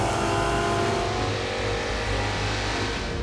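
Car engines rev loudly and continuously at Summernats, a Canberra car festival of burnouts, turbos and blowers, forming a dense, unbroken roar with a deep low rumble throughout.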